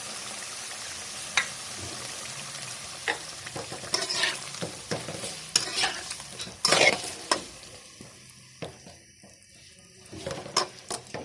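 Chicken kadhi with yogurt stirred in a hot pan gives a steady sizzle under scraping spoon strokes against the pot, close and continuous, with occasional louder clinks and no talking.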